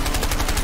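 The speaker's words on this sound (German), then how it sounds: "Ich schieße nicht auf dich, nur auf den Kopf!" Rapid gunfire in the video game A Way Out, a loud, continuous automatic burst with evenly spaced shots across the whole brief moment.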